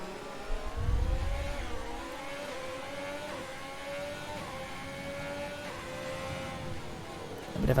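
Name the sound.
race car engines in F1 video game, AlphaTauri and Haas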